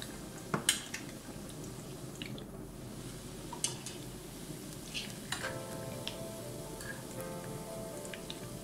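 Beef shami kebabs fry in a pan with a steady crackling sizzle, joined by occasional sharp clinks and scrapes of a utensil against the pan.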